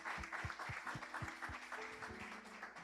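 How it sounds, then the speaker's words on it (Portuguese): Church congregation applauding during a worship service, a faint, washy clapping texture blended with low rhythmic thumps and music-like tones, quiet and distant throughout. "Você pode aplaudir ao Senhor."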